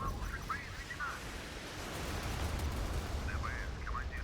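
Naval gunfire from the warship Admiral Nakhimov in the mobile game Modern Warships: a sustained low booming rumble with whistling shell sweeps near the start and end, at moderate loudness.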